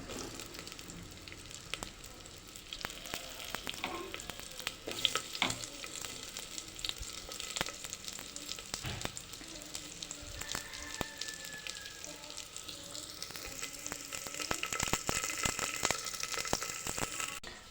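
Garlic frying in hot oil in a pan, a steady close sizzle with scattered crackles and pops running throughout, with a few light knocks and handling noises, no talk.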